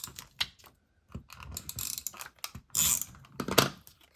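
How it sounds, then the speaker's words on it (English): A tape runner pressed and drawn along the edges of paper for a small Halloween notepad album, giving a series of close, quiet clicking and ratcheting strokes with short pauses between them. "I think it's gonna be fine to use our tape runner with that."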